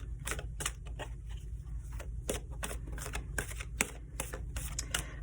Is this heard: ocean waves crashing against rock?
no